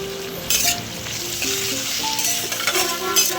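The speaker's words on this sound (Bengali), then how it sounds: "রসুন আর কুচনো পেঁয়াজ দিয়ে হালকা করে ভেজে নিচ্ছি" Garlic, chilli and chopped onion sizzle steadily in hot oil in a pan for an egg dish, with stirring scrapes and a few light clinks over a continuous close frying hiss.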